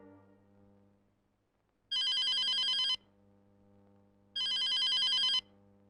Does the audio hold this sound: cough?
no